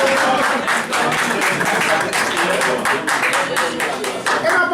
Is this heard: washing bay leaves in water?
no